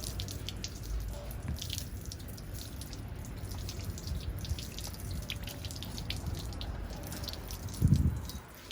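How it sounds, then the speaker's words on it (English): Garden hose water spraying steadily over a DirecTV World Direct satellite dish and its mounting pole for a final rinse, a continuous close hiss of water with a brief louder splash near the end. "just grab the hose again and rinse the whole thing down for a final rinse"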